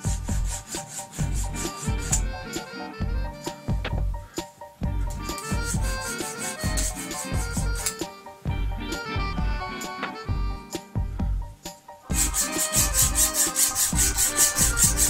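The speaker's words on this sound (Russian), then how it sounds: "Первый тест я сделаю надфилем. Прислушайтесь к звуку, он говорит о многом." A needle file rasps across a hardened steel screwdriver bit in quick, repeated back-and-forth strokes, with scratchy, gritty, close-up scraping, short pauses between bursts and a harsher stretch near the end.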